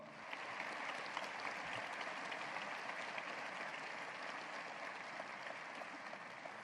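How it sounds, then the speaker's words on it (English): An audience at a university State of the University address gives sustained applause. The clapping is a continuous, even wash of many hands, heard from a distance and fairly faint throughout. "As these individuals stand, please join me in giving them applause."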